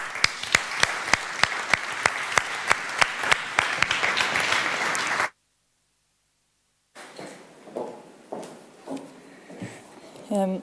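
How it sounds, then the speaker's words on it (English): An audience claps warmly for a speaker at a Parkinson's presentation, steady rhythmic applause that breaks off into silence, then scattered clapping returns with a voice speaking over it. "I would like to give her a warm applause."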